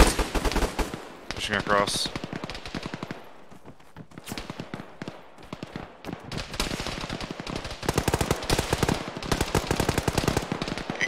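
Dense bursts of rapid automatic gunfire and heavier shots in a military shooter game, crackling loud and close in rhythmic volleys throughout, with brief radio-style voices cutting in.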